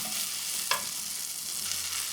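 Tomatoes frying in a pan with salt and chili powder give a steady close sizzle throughout, with a brief sharp stirring scrape near the start and another softer one toward the end.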